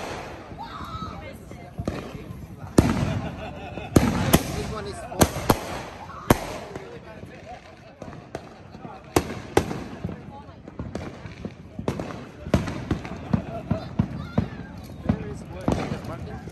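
Massive July 4th Independence Day fireworks burst at a park in America, a long irregular barrage of sharp, loud booms and crackles, with people talking in between.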